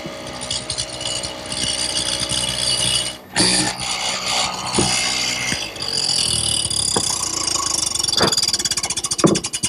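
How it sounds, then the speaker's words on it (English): A power tool widens a mortise in wood for a turned post bed headboard in a woodworking shop: a steady, loud, buzzing cut with a brief drop near a third of the way through and a few sharp knocks toward the end. "Now I'm going to turn it around and widen the mortise."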